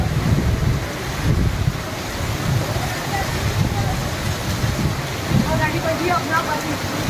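Heavy rain pours in Rampura, Neemuch, a loud continuous rushing hiss mixed with buffeting wind noise on the microphone, with voices faintly underneath.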